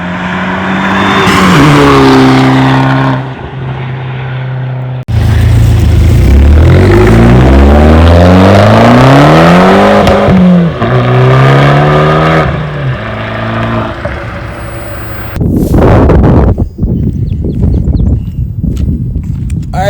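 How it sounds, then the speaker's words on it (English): A tuned Fiat 500 Abarth with an intercooler and cowl intake revs loudly up close, its engine note rising and falling in sweeping pulls, with a sharp burst of roar near the end. "It's got an intercooler, it's got a tune, it's got a COWL intake, and it sounds like an absolute monster."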